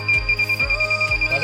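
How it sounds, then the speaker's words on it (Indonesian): An Arduino Uno parking sensor buzzer beeping in a fast, steady pulse of short, loud, close electronic tones, about ten in a second and a half. "Pada jarak di bawah 8 cm, suara buzzer akan seperti ini"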